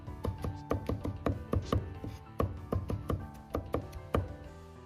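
A cleaver minces crushed ginger and garlic on a wooden board in rapid, fairly regular knocking chops, about fifteen close, crisp strikes with brief pauses and no voices.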